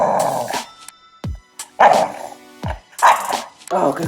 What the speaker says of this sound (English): We're gonna see if we can teach JC how to bark